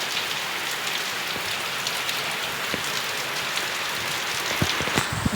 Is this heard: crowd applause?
no